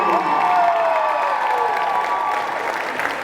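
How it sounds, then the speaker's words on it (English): Crowd applause and cheering in a high school gym for the Marlboro High School team before a CMASS championship game; dense clapping from a large crowd, loud at first and slowly tapering, with a faint whistle-like tone sweeping through. "Let's have a nice round of applause for Marlboro High School."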